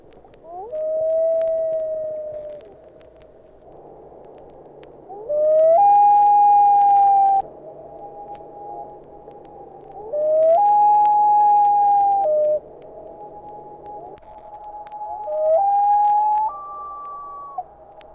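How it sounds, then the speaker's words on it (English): Common loon calls in sequence: a type 1 call, two versions of the type 2 call, and a type 3 call, each a clear, mournful, rising wail held for a second or two, separated by quieter gaps over a faint background hum. "Here's the type 1 call, the 2 versions of the type 2, and the type 3, played one after another."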